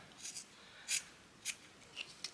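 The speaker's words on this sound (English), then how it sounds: "shall I cut that a little bit off?" Scissors snip a small piece off sewn fabric in a few quick, faint cuts close by, against a quiet room background.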